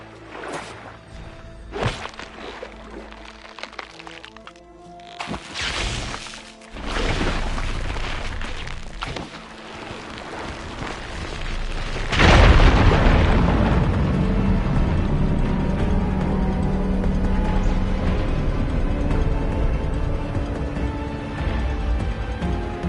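A fire gleam explodes in the Horizon Forbidden West video game: clanking mechanical clicks and whooshes lead into a loud deep boom, followed by a sustained rumbling roar that carries on to the end.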